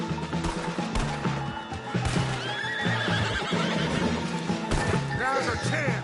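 A horse in the Red Dead Redemption 2 video game neighs and whinnies repeatedly amid clip-clopping hooves and the clatter of action, with voices speaking over parts of it.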